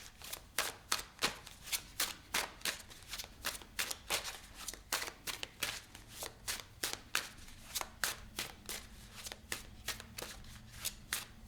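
Tarot cards being shuffled in the hands, a close, rhythmic run of quick riffling bursts repeating through the whole stretch.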